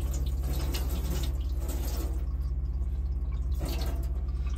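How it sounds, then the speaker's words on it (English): Steady pressurised hot water rushing from a pumped tap in an Auto-Trail Imala 615 motorhome, a continuous even flow with a constant low hum beneath, no voices. "that is your hot water coming through there"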